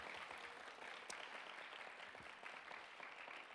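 Dense, steady applause from a church congregation at a university-group winter retreat's opening worship service, a broad wash of many hands clapping together throughout, moderately distant with no voices standing out.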